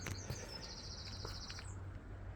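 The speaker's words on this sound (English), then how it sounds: "I don't know if you can hear that bird singing." A bird sings outdoors in wet, hilly countryside, a faint, rapid trilling phrase repeated over a low steady rumble of wind or water, fairly distant.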